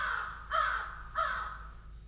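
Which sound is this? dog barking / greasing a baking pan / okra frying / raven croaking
raven croaking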